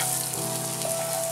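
Boiled urad dal going into hot spiced oil with ginger paste, cumin, turmeric and chilli powder, giving a steady close sizzle and fry that runs unbroken throughout.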